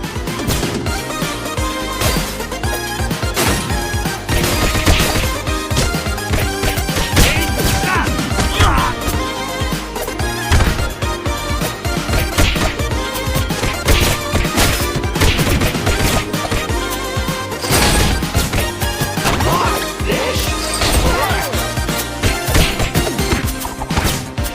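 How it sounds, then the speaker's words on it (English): Soundtrack and sound effects from the beat-'em-up game TMNT: Shredder's Revenge, with dense, loud driving music and constant punchy hits and crashes throughout, without speech. "we're going to start out with a clip of my favorite audio track in the game."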